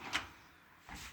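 A drawer on a new Husky shop tool box slides along double drawer slides, with a sharp clack at the start and another slide sound near the end, loud and close.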